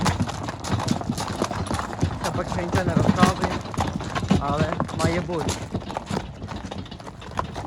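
Horses, including mares, walking on a farm with steady clip-clopping hooves, an occasional whinny and wind noise, heard under continuous conversation in Ukrainian.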